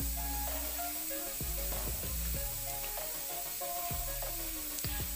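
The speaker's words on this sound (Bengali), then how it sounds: "এবার আদা রসুনটাকে আমি ভালো করে কষিয়ে নেব যতক্ষণ না তেল ছেড়ে দেয় ততক্ষণ আমি" Ginger-garlic paste sizzles in hot oil for a Bengali egg curry, a steady close frying hiss broken by a few scraping stirs of the pan, with no talking.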